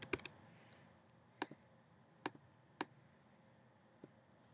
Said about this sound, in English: I'm just going to go ahead and start typing right away.